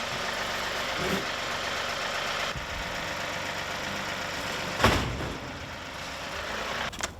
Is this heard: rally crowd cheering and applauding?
no